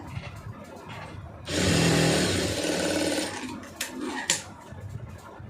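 A sewing machine stitching a blouse band runs in one loud, steady whirring burst of about two seconds, close by, framed by quieter handling of fabric and parts before and after.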